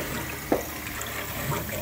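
Water flows into underfloor heating pipes on a combi boiler system, a soft, steady trickling hiss with one brief gurgle, faint and close.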